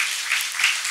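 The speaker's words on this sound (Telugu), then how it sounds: "అందరూ చప్పట్లు కొట్టండి" Applause from a church congregation during a Sunday sermon, a dense, steady wash of many hands clapping that swells twice before the short burst ends.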